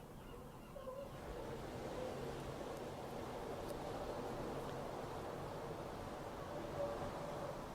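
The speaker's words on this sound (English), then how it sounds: "so you can hear the beauty of the ocean" Steady, broad wash of Pacific ocean surf at Santa Cruz heard from a beach balcony, rolling continuously, fairly soft and distant, with some wind noise and no voices.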